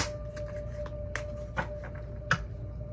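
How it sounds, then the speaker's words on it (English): Tarot cards riffled in a side shuffle, a few soft papery bursts over a low steady hum, close and fairly quiet. "y'all saw me do the side shuffle"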